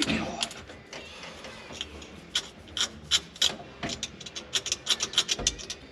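Stuck old gasket being scraped off a part of a 1953 Chevy 5700 COE truck, rapid uneven rasping strokes close by, bursts of scratching with brief pauses.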